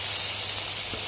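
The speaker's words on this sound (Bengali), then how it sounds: "এটা ভালো করে একটু পেঁয়াজগুলোকে ভেজে নিচ্ছি।" Chopped onions frying in a pan with ginger paste and chopped garlic, a continuous close hissing sizzle over the whole short stretch, with no voices.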